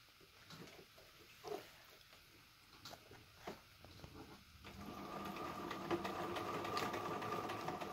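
A sewing machine stitches a pocket on a handmade bag, starting with a few scattered clicks and handling noises before a steady, continuous motor whir and needle chatter runs for the last few seconds, close and moderately loud.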